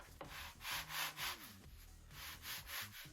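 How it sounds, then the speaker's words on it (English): Sandpaper rubbing back and forth on a wooden forward fuselage section of a .60-size Top Flite P-40E Warhawk model airplane, heard close up as about six rhythmic rasping strokes in two bursts. "I'm just sanding this forward section"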